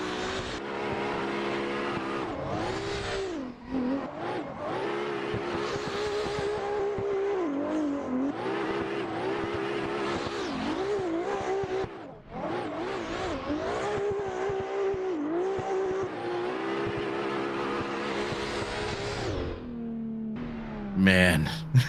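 A drift car at full throttle on the Mondello Park track in Ireland, during a drift competition round, screams with a continuous, loud, wavering engine note and tire squeal. Brief lifts break the sound, and commentators talk over it.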